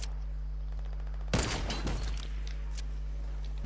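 Rapid video game gunfire from World of Warcraft breaks out as a dense, loud burst of shots lasting about a second, then trails into scattered fainter pops over a steady low hum.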